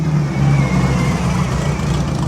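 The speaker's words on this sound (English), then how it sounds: "The hot rod in motion." A hot rod at a Sunday car show rumbles past nearby, a loud, low engine drone holding steady for a couple of seconds.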